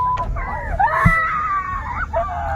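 A person screams in a car at night, shrill wavering cries that rise and fall for a couple of seconds up close, broken by a short thump.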